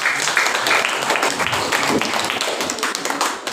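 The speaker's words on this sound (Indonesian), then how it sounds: "tepuk tangan buat" Students in a classroom clap for a group, a close, dense burst of hand clapping that carries on steadily throughout.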